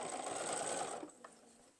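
A sewing machine stitches along quilt binding, its steady close motor hum running for about a second before slowing and trailing off with a couple of faint clicks.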